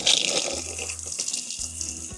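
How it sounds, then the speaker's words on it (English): Water runs steadily from a tap as hands are rinsed at a sink, a close, continuous broadband hiss with no talking. "I'm gonna go rinse my hands off."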